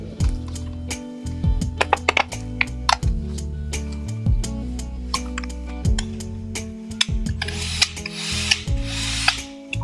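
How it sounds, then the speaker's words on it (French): A part is screwed in during installation of an Ihome Connect N13, heard as repeated close power-tool whirs with sharp clicks and ratcheting bursts over a steady low hum. "on va la visser directement"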